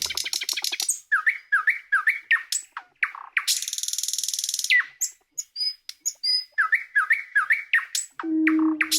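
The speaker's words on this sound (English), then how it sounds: "That's the actual nightingale song coming in." Nightingale song fills the recording with rapid repeated trills, sharp whistled notes and a buzzing rasp, phrases coming in quick bursts, close and clear with no voices.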